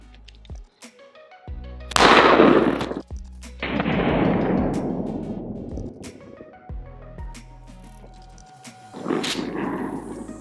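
A 12-gauge shotgun firing Challenger mini shells with #4 buckshot and birdshot loads outdoors: three loud, sharp blasts spaced several seconds apart, each with a decaying echo, and quieter mechanical clicks in between.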